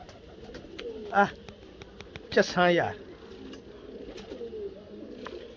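Teddy Golden pigeons coo in a breeding loft, with a few low throaty coos at close range and someone speaking over them.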